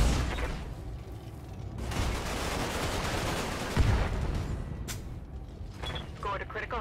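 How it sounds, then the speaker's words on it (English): Machine guns firing in the video game BattleTech, a sustained rattling burst in the middle with a heavy thump, flanked by game effects and a voice speaking. "Look at the awesomeness that is machine guns."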